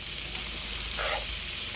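Bopis, a Filipino dish, fries in a pan while being stirred, giving a steady soft sizzle with a brief brighter burst of scraping and crackle midway through the short stretch.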